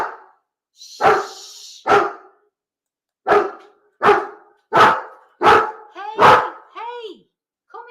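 A dog barks repeatedly at close range, about eight sharp barks in an uneven rhythm, the last few turning into higher yelps and whines, with a brief high rustle near the start.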